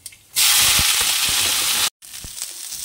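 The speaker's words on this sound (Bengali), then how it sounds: "আগে এটাকে ভেজে নিই, তারপর ওটা করব। কালো জিরেটা দিয়ে দিই, শুকনো লঙ্কা দেবো না, কাঁচা লঙ্কা দিচ্ছি, এটাই ভাজা হয়ে যাবে।" Cauliflower hits hot oil in a pan with black cumin and green chilli, bursting into a loud, bright hiss and sizzle that holds steadily, cuts off briefly, then resumes more quietly.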